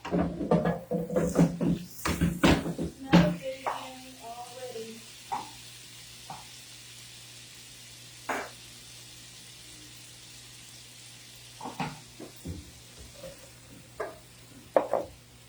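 Chopped onion sautés in a pan for white chicken chili, with a low, faint sizzle under busy utensil scraping at first, then sparse taps and stirs over a quiet background.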